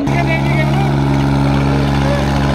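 Sonalika and Swaraj 855 tractors strain against each other in a village tractor pulling contest, their engines a loud, steady droning hum with constant tonal rumble throughout, while a crowd or commentator talks over it.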